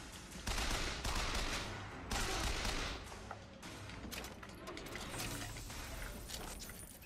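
Enemies open fire in Bioshock Infinite, with bursts of loud gunshots and rapid volleys repeating across the whole stretch, mixed with mechanical clanks and battle noise and hardly any talking.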